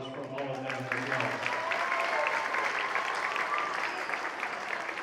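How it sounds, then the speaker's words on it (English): Audience applause at a Veterans Day celebration, a steady wash of many hands clapping that carries on throughout, with voices audible beneath it at the start. "A round of applause from all of them as well."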